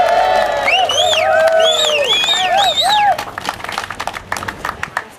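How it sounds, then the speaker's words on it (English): Audience of park supporters at a morning civic gathering applauding and cheering, with whoops and high shouted calls over dense clapping that tapers off toward the end. "I want all of the park fans in the back to give us a round of applause"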